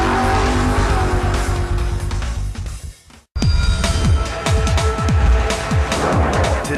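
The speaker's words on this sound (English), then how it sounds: "This Supercomp dragster won't break the sound barrier, but if you feel the need for speed, strap in and let's go" A Supercomp dragster racing, engine roaring loud and close with a screaming rev, a brief cut, then rapid gear-climbing roars and tire noise continuing at full intensity.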